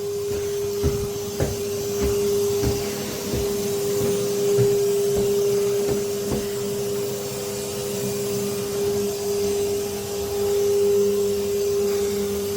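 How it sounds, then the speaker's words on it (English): A vacuum cleaner drones steadily with a constant hum while sucking up plaster dust, punctuated by occasional knocks and clatters as it works across a surface. "just hoovering up. That's the droning noise you can hear"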